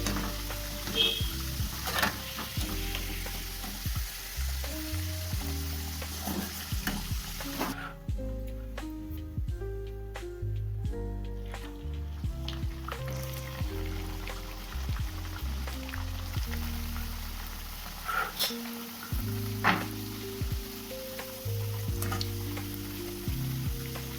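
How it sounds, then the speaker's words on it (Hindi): Kachori deep-frying in hot oil, a steady bubbling sizzle with some stirring clatter running throughout, fairly close and with no talk. "अब इसे निकाल लेते हैं और कचौरी तलते हैं।"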